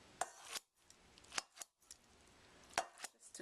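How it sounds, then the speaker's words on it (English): Several crisp snips of scissors cutting through cooked noodles, in an irregular rhythm with brief quiet gaps, close and fairly faint. "I'm just going to run the scissors through it"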